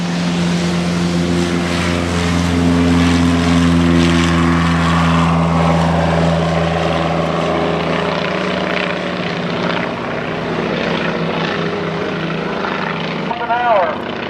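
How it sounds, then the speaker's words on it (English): A SPAD VII biplane with a propeller engine roars loud and close on takeoff at an aerodrome, a steady droning buzz with strong harmonics that holds for most of the run, with no talk over it. "SPAD 7 on takeoff."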